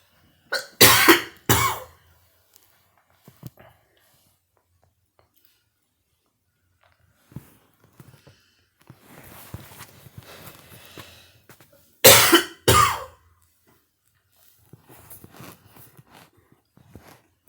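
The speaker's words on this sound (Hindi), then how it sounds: "दोस्तों थोड़ा खांसी हो गया बोलते बोलते।" A man coughs hard in two separate bursts of several harsh coughs each, close to the microphone, with soft breathing and scattered faint sounds between them.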